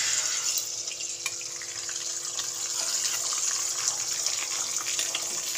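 Two beaten eggs hit hot oil in a pan and fry with a steady, soft, even sizzle. The hiss holds constant and close for the whole stretch, with no voices.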